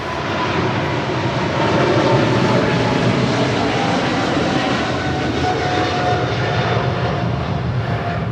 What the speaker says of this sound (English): That is China Southern Cargo 2540 departing to Guangzhou on a 777 freighter.